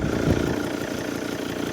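An older 2.4-litre car engine idles nearby with a steady, rough, somewhat agricultural rumble that holds an even level throughout, with no voices.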